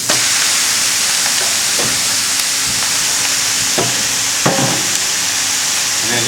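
Ten kilos of curry browning in a hot commercial bratt pan, giving a loud, constant sizzling hiss with occasional scraping stirs and clanks close by.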